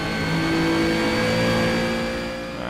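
A race car engine revs loud and close in the racing video game Project CARS, a steady, strained mechanical whine that holds high before easing off slightly at the end.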